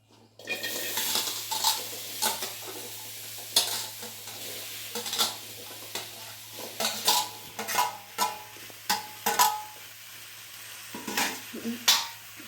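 Okra frying in a pan for sambar, with a sizzling bed under repeated sharp scrapes and knocks of a spoon stirring against the metal, coming in uneven bursts close to the listener.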